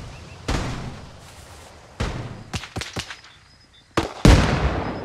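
Explosion in Arma Reforger, heard as a few sharp cracks and bangs spaced over several seconds, the loudest paired blasts near the end standing out against a quiet outdoor background.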